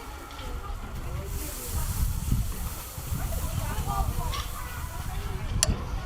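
Tri-tip beef sizzling over direct heat on a barbecue grill, a steady broadband hiss lasting throughout with low rumbling underneath and a brief sharp crackle near the end.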